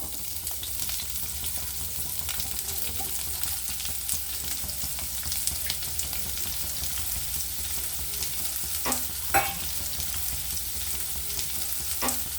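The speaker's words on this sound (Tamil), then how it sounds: "வெங்காயம் நல்லா வதங்கட்டும்." Chopped onions sizzle and crackle steadily in hot oil for a mushroom fry, with a few sharper pops and a stirring scrape near the end.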